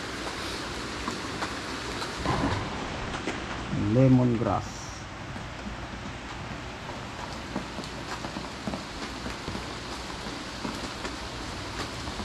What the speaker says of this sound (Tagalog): Lakas po naman ang ulan na.